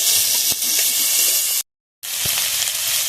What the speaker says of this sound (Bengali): টমেটোটাও ভালোভাবে ভেজে নেবো।